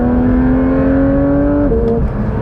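A Porsche 992.1 911 GT3 climbing a mountain road, its engine droning loud and close with a steady rising pitch, then shifting gear and pulling on again, with no voices over it.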